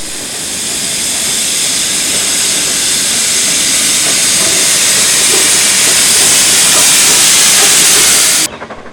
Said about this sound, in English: 4 newly built steam locomotives were added to its fleet from 2011 onwards.